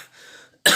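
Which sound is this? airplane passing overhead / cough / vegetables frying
cough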